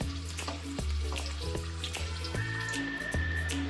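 About ten onions fry in a pan, giving a close, steady sizzle with soft scraping and clinks, no voices.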